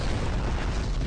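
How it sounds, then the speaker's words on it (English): An explosion in the space video game Star Trek Online, a loud, close, rumbling boom that fills the whole moment with a heavy roar and no pause. "explosions do hurt you if you're too close"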